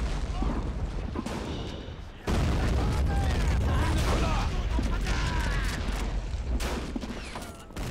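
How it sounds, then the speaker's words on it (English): Battle sounds from the World War II strategy game Men of War: Assault Squad 2, with dense bursts of gunfire and booming explosions in a continuous, loud fusillade while someone talks over them. "I thought I heard a little bit of a machine gun fire or something"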